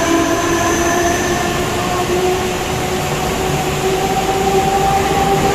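A train rolls past during heavy monsoon rain in Mumbai, a loud steady rumble with sustained tonal whine and horn-like drones, continuous and close for the whole stretch.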